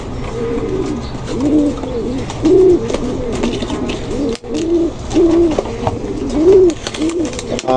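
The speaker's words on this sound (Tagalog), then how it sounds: "tingnan nyo. Oh, umuungol." A hen pigeon coos in a repeated series of low, throaty, rolling calls, close and fairly loud, with a brief break midway before the cooing resumes in the same rhythm.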